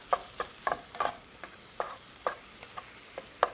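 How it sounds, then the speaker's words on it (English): Ground beef sautéing in a pan, heard as soft sizzle and a series of scraping, clicking stirs at an uneven rhythm, close and fairly quiet with no talking. "You can hear the sizzle of the meat"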